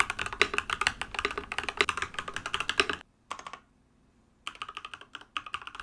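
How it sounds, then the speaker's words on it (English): Rapid clacking keystrokes on a silver mechanical keyboard, close and crisp, in dense bursts that stop for about a second, give way to a short flurry, then resume at full pace. No one speaks. "Let's do a little typing ASMR."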